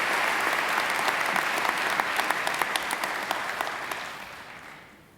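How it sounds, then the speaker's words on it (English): A large audience at a university graduation ceremony applauds the occasional address speaker, a dense sustained roar of clapping filling the hall before gradually thinning and fading toward the end. "Pauline deserves another great round of applause."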